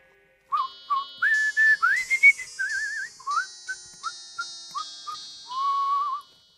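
A person whistles a short, clear melody of sliding and repeated notes, close and alone against silence.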